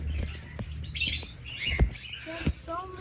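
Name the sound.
birds chirping at a bird farm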